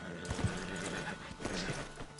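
Horse hooves clip-clop at a steady walking pace on firm ground in Red Dead Redemption II, with a soft background hum and no talking.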